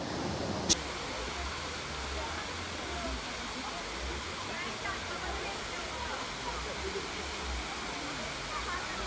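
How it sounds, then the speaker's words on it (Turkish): A waterfall at Mavigöl lake in Giresun gives a steady, moderate rushing hiss throughout, with a brief sharp click near the start and faint talk beneath the water. "Şelale gördüm daha doğrusu."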